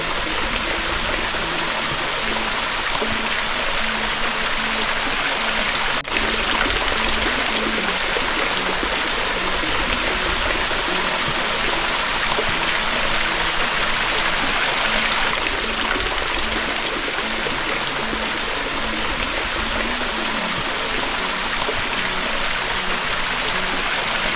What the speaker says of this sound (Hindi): बुलंदी से पानी के कतरे मोतियों की तरह गिरते हुए झील के सब्जी माइल पानियों में इर्ताश पैदा करके एक कुदरती मौसीकी को जन्म देते हैं